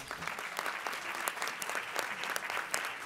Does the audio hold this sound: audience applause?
yes